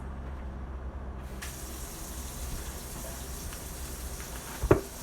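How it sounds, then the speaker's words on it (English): Kitchen sink tap turned on while preparing beef for meatballs, giving a steady close rush of running water that holds throughout, with a brief clatter near the end. "let me turn on the sink so I can wash my"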